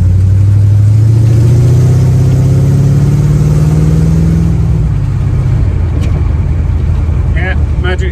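A Chevy hot rod engine runs loud and steady while driving, its low rumble holding for about five seconds before shifting into a rougher, changing drone with a few faint clicks near the end.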